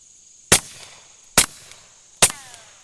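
Three suppressed shots from a .22 pistol fitted with a Tac 65 suppressor come at an even pace, each a sharp, fairly close crack that decays quickly, with quiet gaps between them and no talking.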